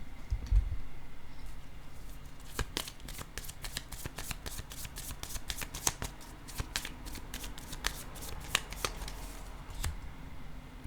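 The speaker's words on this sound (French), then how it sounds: "Je vais déposer une carte ici." Tarot cards are handled and laid down on a table in a quick series of crisp, close papery flicks and taps, spread across most of the stretch with faint background hiss.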